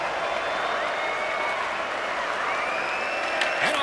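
An arena crowd at an NHL 26 hockey game in Vancouver sends up a steady, roaring wall of cheering and applause that holds loud throughout, with a faint commentator voice beneath it.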